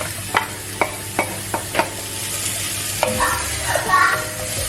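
Garlic and onion frying in a pan for a no-bean chilli con carne, with a steady sizzle broken by several sharp spoon knocks and scrapes against the pan, close and fairly loud.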